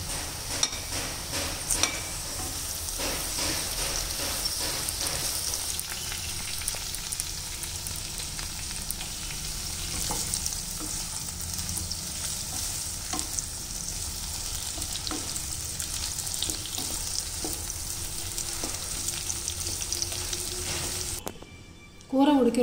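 Browned potato pieces with capsicum fry in a pan for a curry, a dense continuous sizzle broken by intermittent stirring scrapes and clinks, close and steady, ending in a brief louder clatter.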